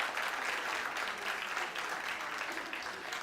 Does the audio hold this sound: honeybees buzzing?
no